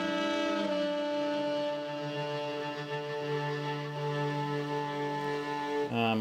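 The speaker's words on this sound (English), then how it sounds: "I've been playing my electric guitar with a cello bow, so that sounds like this." Sustained, singing electric guitar tones drawn out with a cello bow, swelling slowly into long gliding notes that blend into one another, with no talking.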